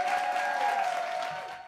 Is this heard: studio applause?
yes